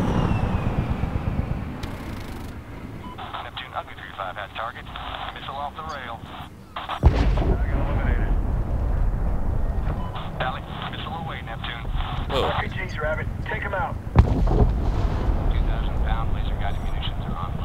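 Heavy booming blasts from a 2,000 pound laser-guided bomb strike in the military shooter Medal of Honor (2010), with loud broadband impacts near 7 and 14 seconds over rumbling battle noise and radio-style voices talking.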